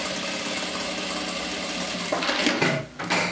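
A sewing machine runs a continuous whirring stitch along the front facing of a blazer, steady and close, then stutters and pauses briefly before starting again near the end, with no talking.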